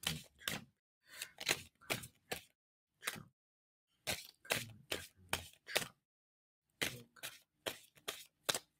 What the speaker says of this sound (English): And tell me when to stop shuffling.